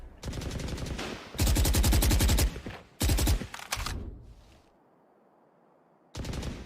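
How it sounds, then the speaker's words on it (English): Rapid automatic gunfire from the video game Valorant during a Pulse Invitational tournament finals match, loud bursts of shots separated by brief gaps, with a final burst after a quiet stretch. "Effys sending some shots because earlier Tenz did actually go quite aggro in mid"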